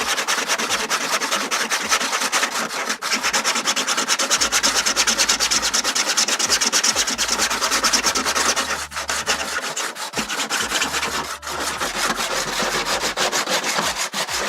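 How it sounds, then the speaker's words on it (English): Sandable 3D-printed filament on a radio-control eagle airplane part being sanded in dense, continuous rasping strokes, loud and close, with a few brief pauses and no talking. "This thing, this filament happens to be sandable."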